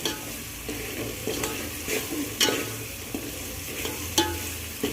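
Turmeric, red chili powder and homemade masala fry in hot oil for chicken dum biryani, sizzling steadily while a spoon stirs the pan with periodic scraping strokes, close and clear with no talk.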